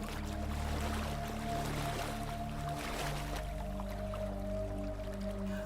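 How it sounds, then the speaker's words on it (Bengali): Wooden boat pushed by a boatman through floodwater on a rainy rural Bengal night, a steady watery swish and slosh with a low constant hum beneath, close and continuous, no voices. "মধুমাঝি চুপচাপ নৌকা ঠেলছে"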